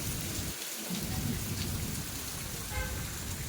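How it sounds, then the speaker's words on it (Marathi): Dense, steady monsoon downpour in Baramati pours down with a continuous hiss and patter over flowing water, with a low rumble underneath, close and unbroken throughout. "इथं पण आलाय आता जरासं पाऊस कमी आणि इथलं पाणी बघा कसं वाहतंय"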